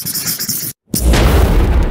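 A big explosion in the co-op video game It Takes Two, a sudden deep boom after a brief moment of silence, followed by loud rumbling debris noise that stays strong to the end.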